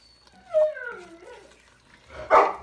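A dog in a home kitchen, where onions cook for French onion soup, whines in rising and falling pitch, then gives one short, sharp bark at the end. The sounds are close and clear over a quiet room.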